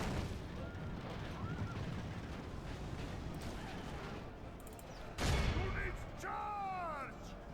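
Medieval siege in Stainless Steel, Medieval 2 Total War: a mangonel and ballista firing amid battle rumble, a sharp loud launch thump near the end followed by whooshing projectile sweeps, distant crashes under faint voices.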